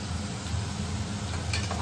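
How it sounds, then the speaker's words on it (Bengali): Sliced onions fry in a pan for a fish curry, a steady close sizzle with soft crackling throughout and a light scrape of stirring near the end. "এই দেখুন পেঁয়াজটা ভেজে নিই।"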